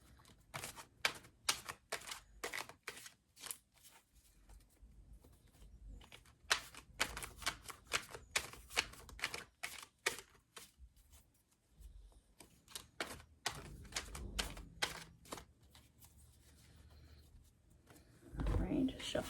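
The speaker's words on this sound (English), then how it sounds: "just shuffle my other deck" A deck of tarot cards being shuffled in a quiet room, repeated crisp riffling clicks in irregular bursts, close and fairly soft, with a brief rustle near the end.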